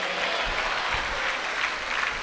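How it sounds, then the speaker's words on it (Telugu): A Sunday service congregation claps in praise, a continuous, even roar of many hands applauding up close, with a few heavier claps standing out and no speech on top. "చప్పట్లు కొడుతూ దేవునికి స్తోత్రం చెప్పండి"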